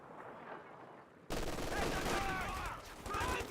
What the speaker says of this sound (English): Rifle grenade fire, don't know how effective.